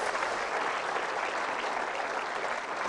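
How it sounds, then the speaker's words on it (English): A church congregation gives steady, loud applause, a dense wash of many hands clapping without a break. "Loud applause."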